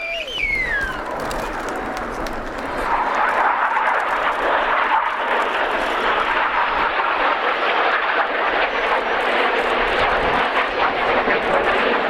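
Red Arrows display jets, the synchro pair, flying past upside down at an air show; a loud, sustained jet roar that swells and holds as they pass overhead, with faint crowd or ambient noise beneath.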